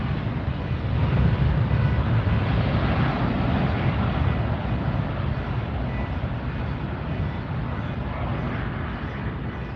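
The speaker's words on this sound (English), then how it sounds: "Listen to those engines." Engines on a six-year-old Virgin Atlantic airliner near LAX produce a loud, steady, broadband rumble that holds continuously without breaks.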